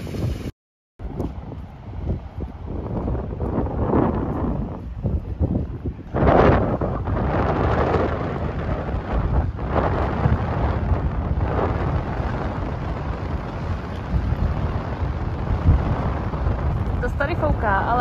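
Gusty wind blows at a seaside beach flying a red warning flag, a steady rushing roar with heavy low buffeting against the microphone that runs throughout, after a brief dropout near the start.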